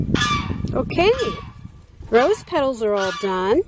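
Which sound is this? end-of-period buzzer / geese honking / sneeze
geese honking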